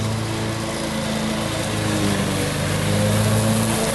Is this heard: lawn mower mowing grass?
yes